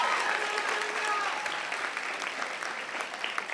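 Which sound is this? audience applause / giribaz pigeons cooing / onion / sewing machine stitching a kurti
audience applause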